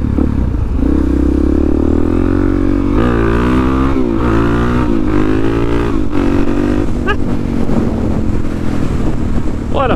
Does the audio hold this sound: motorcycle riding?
yes